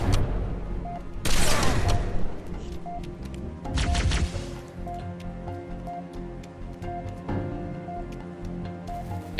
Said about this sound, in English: I'm just going to use the beam rifle